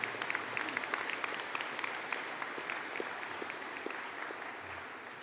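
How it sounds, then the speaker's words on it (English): An audience at a university engineering and informatics graduation ceremony gives the graduates a round of applause, dense sustained clapping from a large crowd in a big hall, steady and slowly fading. "Could I please ask for a collective round of applause for the graduates"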